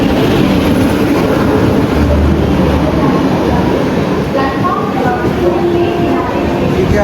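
Inside a moving local train: a loud, steady rumble and rattle of the carriage fills the space, with faint murmuring voices underneath.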